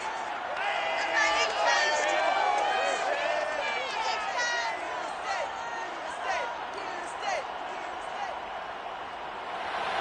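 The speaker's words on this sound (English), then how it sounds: "this crowd enthusiastically cheering on their Texans as they emerge from the locker room" Stadium crowd in a Madden Football video game cheering the Texans as they emerge from the locker room, a steady, loud roar with overlapping excited voices and whistles throughout.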